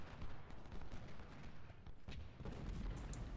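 Musket volleys in the video game Ultimate General: Civil War crackle continuously with dense, overlapping shots. The battle sounds faint and distant, with no voices.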